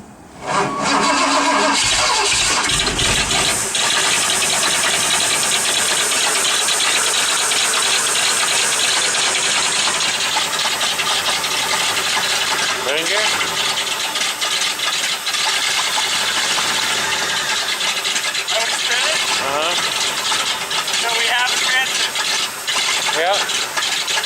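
An engine on low-budget, poorly kept equipment starts and keeps running, its loud steady roar and rattle filling the whole stretch while voices talk over it.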